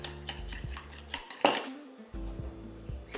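Sriracha sauce being stirred in a bowl, with a close spoon clinking and scraping against the dish, a sharp clink partway through and a brief pause before the stirring resumes.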